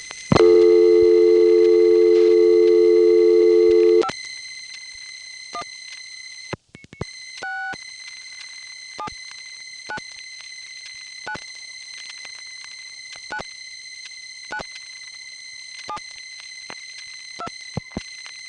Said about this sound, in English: you'll hear Suburban Tandem dial pulsing the last 5 digits into Massapequa